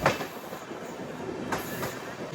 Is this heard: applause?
no